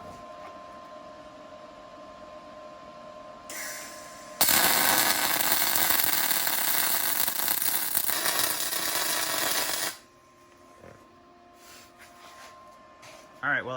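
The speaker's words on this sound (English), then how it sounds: "Can only go so fast with a MIG gun." MIG welding a root pass and weave on a Dana 60 axle for a Jeep Wrangler JK: a loud, steady crackling hiss runs for about six seconds, with quieter shop sounds before and after.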